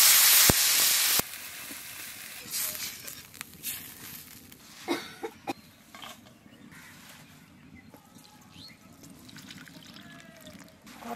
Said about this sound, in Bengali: আলু ভাজা এ গেছে, আমি জল দিয়ে দেবো।